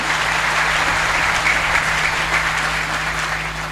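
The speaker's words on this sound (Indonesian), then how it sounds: "tepuk tangan untuk Nahdlatul Ulama" Steady, dense applause from an audience at a Nahdlatul Ulama halal bihalal religious gathering, loud and continuous throughout with no voices over it.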